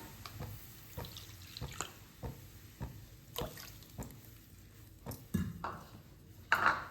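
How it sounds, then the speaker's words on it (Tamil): Water is poured into rice flour in a kitchen, giving faint, irregular drips and small splashes with a few sharper pings near the end, with no talk. "இதுக்கு 1/4 கப்பு தண்ணி விட்டுக்கலாம்."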